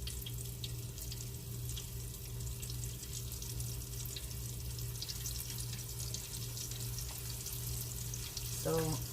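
Lemon pepper chicken pieces fry in oil with a steady, soft sizzle and crackle throughout, close by, and a brief clatter near the end.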